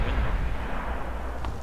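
Rockets firing in the World of Tanks video game, a deep rumbling barrage with low booming thuds that roll on continuously.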